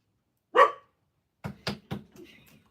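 A dog barks nearby, first one sharp bark, then a quick run of three barks followed by softer yips, in an otherwise quiet indoor room.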